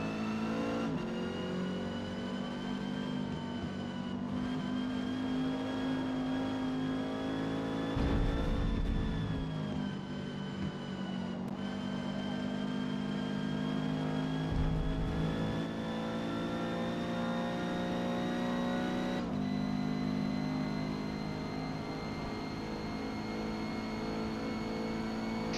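A Renault 8 Gordini racing in Forza Motorsport, D class at Catalunya, its small engine droning steadily at high revs with a few shifts and dips in pitch, loud and alone without talk.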